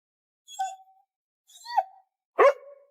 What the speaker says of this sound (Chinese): 狗子面对他扔过去的线团似乎有点无动于衷，不过好像又看到了什么，跑到旁边不停地叫唤起来